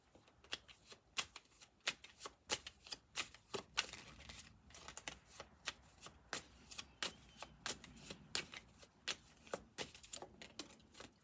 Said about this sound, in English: We're going to do a live shuffle.